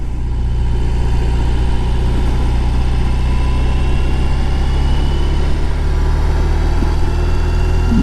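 A BMW R18 motorcycle engine drones steadily and loudly while riding through small roundabouts, a continuous low rumble with wind noise and no speech.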